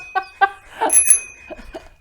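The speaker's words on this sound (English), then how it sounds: "Hey, look at this doorbell." A doorbell at a house door gives a few short, bright ding tones followed by softer chime notes, close and clear with no talking over it.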